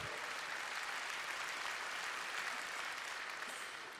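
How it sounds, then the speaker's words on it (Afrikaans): Applause from a crowd at a gospel concert show, an even, fairly quiet hiss of many hands clapping that continues steadily for four seconds with no voices. "Gee sommer vir jouself een groot hande klap."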